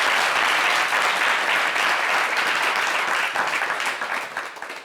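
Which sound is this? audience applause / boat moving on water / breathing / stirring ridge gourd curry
audience applause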